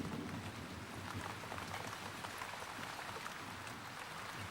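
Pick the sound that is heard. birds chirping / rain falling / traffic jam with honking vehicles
rain falling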